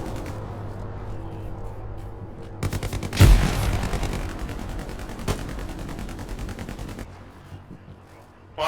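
A heavy machine gun in the video game Hell Let Loose fires a long sustained burst of rapid, loud shots. The fire starts with a heavy boom, rattles on for several seconds, then stops, with quieter game ambience before and after.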